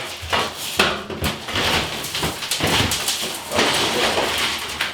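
Ceramic wall tiles around a bathtub torn away from cement board, giving a close run of sharp cracks, scraping and hard clattering knocks in uneven bursts, with no talking.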